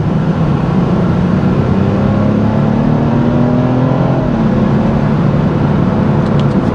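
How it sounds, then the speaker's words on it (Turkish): A 245 hp BMW 428i engine drones loudly and continuously from inside the car, its pitch slowly climbing as it revs, steady road noise underneath. "Motor sesini duyabiliyorsunuz."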